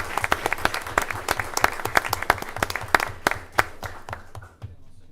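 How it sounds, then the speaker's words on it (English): Audience at a school board meeting applauds high school students recognized for All State honors, a dense burst of clapping with sharp individual claps that thins out and fades near the end. "So give them a round of applause"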